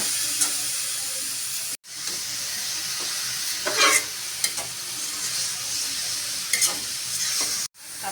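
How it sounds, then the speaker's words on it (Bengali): Kalai shaak leafy greens with salt being stirred and fried in a pan, a steady close sizzle with scraping stir strokes throughout, broken by two brief silent cuts. "এখন কলৌ শাক দিয়ে দিব, লবণ দিয়ে দিলাম। এখন নেড়ে চেড়ে নিব।"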